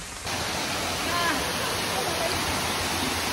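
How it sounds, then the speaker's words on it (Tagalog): Obo Falls, a waterfall in Aroroy, roars as a steady, dense wash of falling water heard up close, constant and unbroken after a brief quieter opening. "nandito po kami kung saan nandito na ang Obo Falls. Tanaw na namin dito."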